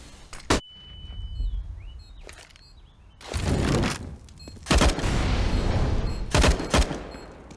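Gunfire in a Counter-Strike: Global Offensive pro match. Sharp, loud shots and short bursts arrive in scattered clusters, some single cracks and some quick volleys, over a low game background with no talk.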